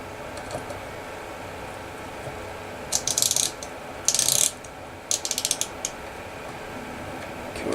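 Ratchet wrench clicking in three short bursts while snugging Kohler KT17 connecting rod bolts, crisp rapid pawl ticks close by over a steady low room hum, with no one speaking.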